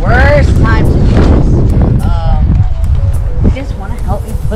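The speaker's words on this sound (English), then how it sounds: "Okay, so it's really windy." Strong outdoor wind buffets the microphone in continuous loud gusts, with people talking over the roar throughout.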